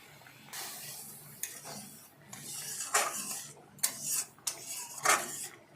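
Soaked bitter gourd slices dropped into hot oil in a pan, giving bursts of loud hissing sizzle that swell and fade in waves, with scraping and clinking of a utensil against the pan between them.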